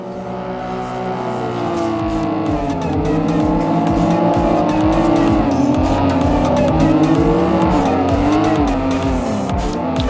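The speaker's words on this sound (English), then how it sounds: "A nice drift train going on. 3-car train." Three drifting cars in a tandem train make loud, sustained tire squeal layered over revving, wailing engines, the pitch bending up and down as the cars slide past nearby for several seconds.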